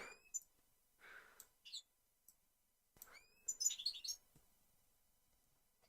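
Small birds chirp close by in quick, scattered bursts of high tweets separated by quiet gaps, faint overall with no talking.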